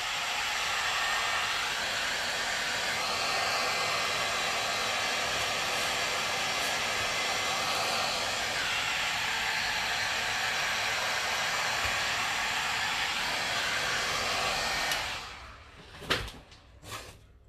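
A hair dryer blows on a mixed media ceramic artwork, a steady loud whooshing roar that lasts about fifteen seconds, then stops and is followed by a few knocks and clatters.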